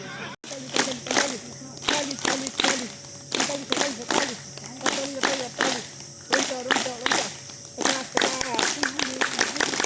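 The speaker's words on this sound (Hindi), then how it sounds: "ताली बजाओ" Group clapping at an International Yoga Day session in Aligarh, sharp rhythmic claps in repeated bursts with short pauses, while people chant and talk along.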